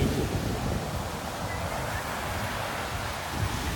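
Sea surf washing onto a beach in Nha Trang, Vietnam, with branches strewn along the shore; a steady, broad wash of breaking waves with some wind noise runs throughout, fairly close and continuous.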